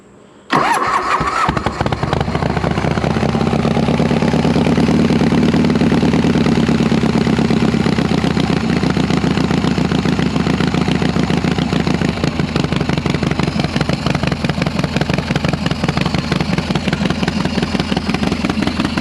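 A motorcycle engine fitted with a freshly rebuilt S&S Super E carburetor fires up and settles into a loud, steady idle with a rough, rapid pulsing beat, close up and running alone throughout.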